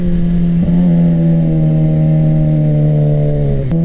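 A Suzuki GSX-R sport motorcycle ridden at an easy cruise, its engine holding a steady, loud drone with a brief shift and a small rise in pitch, recorded up close from the bike.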